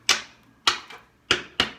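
Tarot cards being shuffled give four quick, crisp riffling snaps in an uneven rhythm, close and clear, with nothing else in the background.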